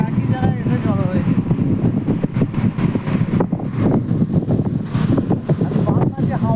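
Steady wind gusting across the microphone by a river among hills and villages, a dense rushing roar throughout, with a voice speaking over it at times.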